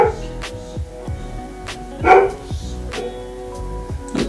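A dog barks repeatedly at close range in a quick, uneven rhythm, with one louder bark partway through and some musical tones behind.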